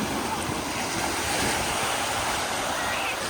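Steady broadband wash of sea surf rolls on, mixed with wind buffeting the microphone; no distinct voices stand out.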